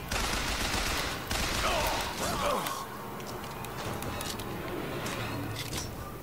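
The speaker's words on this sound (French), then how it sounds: "Qui me tire dessus?" Gunfire in the video game Bioshock Infinite, a dense, continuous rattle of shots and mechanical clatter that stays loud, then eases into a lower, steadier wash of combat noise.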